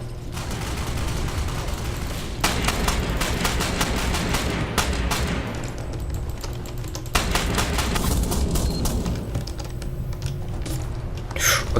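Rapid gunfire from a sniper and other weapons in the online shooter Ghost Recon Phantoms, several loud bursts of sharp cracks over steady game background noise, with no talk.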